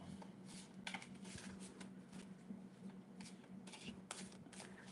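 Tarot cards being shuffled by hand, soft papery riffles and flicks in quick irregular bursts, close but quiet, with no talking.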